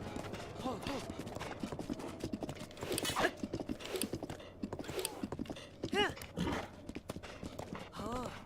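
Horse hooves clip-clopping in the video game The Legend of Zelda: Breath of the Wild, a steady trotting rhythm of moderate loudness that runs under someone talking, with occasional whinnies.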